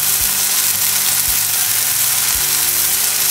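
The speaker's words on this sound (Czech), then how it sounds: "Teďka tam už můžeme dát ty namočený nudle, trošku nám změkly a doděláme se na ty pánvy." Soaked rice noodles for chicken pad thai sizzle and fry in a hot pan, a loud steady crackle with a few soft knocks of stirring, and no voices.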